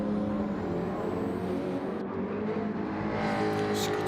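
A McLaren race car in a Gran Turismo-style Interlagos league race drones with a steady engine whine and tire noise, continuous and moderately loud, with a commentator talking over it.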